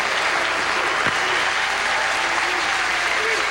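An arena crowd of about 2,500 at a bowling world championship final applauds loudly and continuously, a dense roar of clapping with scattered cheers throughout.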